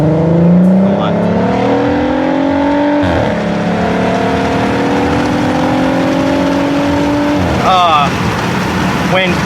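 Volkswagen Passat with a straight-pipe exhaust revving loudly from inside the cabin, engine note climbing and falling in long sweeps, then a short crackle and shifting sounds near the end.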